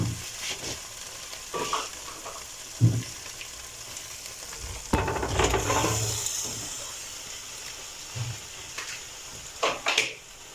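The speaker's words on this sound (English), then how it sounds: "And finally, we will add in our pasta." Pasta is tipped into a pan of white sauce and stirred, giving soft wet sloshing and scraping over a low sizzle, with a few louder clanks of the spoon against the pan, close up and without talk.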